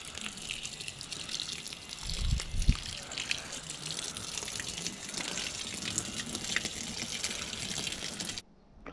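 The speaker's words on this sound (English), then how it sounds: "So we'll give this a bit of a water as well" Garden plants get a steady watering, with a continuous soft spray and trickle of water running for several seconds at moderate volume before stopping abruptly.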